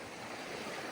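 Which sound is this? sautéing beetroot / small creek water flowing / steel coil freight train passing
small creek water flowing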